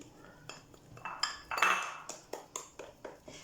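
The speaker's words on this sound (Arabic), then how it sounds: "تنحط عليها واحد الطبسيل باش ما تنفخش معايا" A plate set down over harcha, a Moroccan semolina flatbread cooking in a pan, giving a series of light clinks and ceramic taps, several close knocks spread across the moment with one louder clatter midway.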